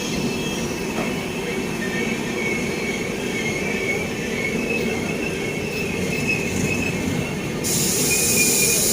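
A superfast express train runs past on Indian railways, a loud continuous rumble of wheels on track with a steady metallic squeal and faint clatter, close and sustained throughout.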